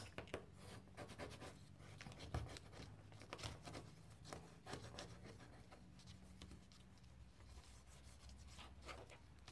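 Soft, steady rubbing and scraping comes close up as glue is pressed and spread across a photo album page, a low continuous friction with brief firmer strokes.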